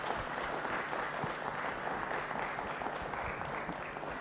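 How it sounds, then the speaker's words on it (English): Conference audience applauding at a data sovereignty event, a dense, steady patter of many hands clapping at even volume throughout, with no one talking over it. "Can we clap in a more louder manner?"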